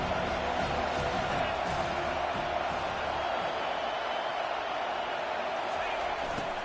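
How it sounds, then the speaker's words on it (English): A football stadium crowd roars after a good running play, a broad, steady wall of cheering under an announcer's voice. "This crowd knows when to bring it."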